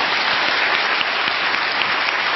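A TV studio audience breaks into dense, continuous applause, loud and close, a uniform wash of many hands clapping with no talk over it, sustained throughout.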